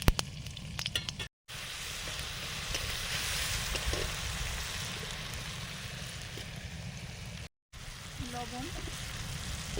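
Whole five-spice seeds crackle and sizzle in hot oil in a pan for a Bengali fish curry with turmeric, tomato and kohlrabi. A steady, close frying hiss continues throughout, with two short breaks and faint stirring.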